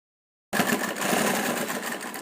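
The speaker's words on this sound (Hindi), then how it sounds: "अब हम इस किनारे से सिलाई लगाएंगे।" A sewing machine stitches along the edge of a kurti, starting after a short silence into a fast, steady, close mechanical whirr.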